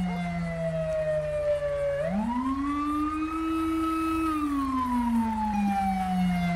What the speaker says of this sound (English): Sounds like NYPD siren.